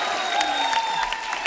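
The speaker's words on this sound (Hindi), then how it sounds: "जोरदार तालियां हो जाए अनिल सर और नीतू जी के लिए।" Studio audience applauding Anil Kapoor and Neetu Kapoor on a comedy show, a steady wash of clapping with crowd noise throughout, no talking.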